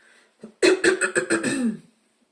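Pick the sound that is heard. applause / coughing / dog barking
coughing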